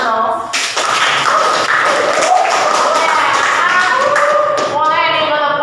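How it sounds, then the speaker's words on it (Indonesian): Classroom of students applauding together, a dense, loud, steady patter of many hands clapping at once, with children's voices calling and cheering over it throughout. "Boleh tepuk tangan dong."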